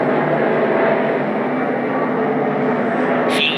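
An airliner on its takeoff roll at Newark airport, with a loud, steady engine roar holding at full power across the whole span and a brief sharp noise near the end.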